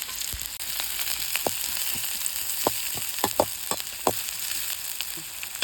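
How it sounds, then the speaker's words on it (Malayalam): Chopped large onions fry in hot oil in a home kitchen pan, browning steadily. A continuous close sizzle carries sharp pops and crackles at irregular moments, with no voices. "ഉള്ളി മൂത്ത് വന്നിട്ടുണ്ട്"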